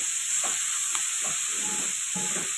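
Curry leaves and spring onion tipped together into a small amount of hot oil, crackling and sizzling steadily with short bursts of spattering over a constant high hiss, close and alone.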